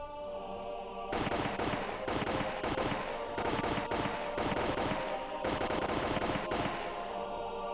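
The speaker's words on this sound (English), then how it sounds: "The sound of the gunshots echoed in the silence." Soldiers fire on escaping people in an anime scene, with several loud bursts of rapid automatic gunfire separated by short pauses, the shots ringing out close and harsh.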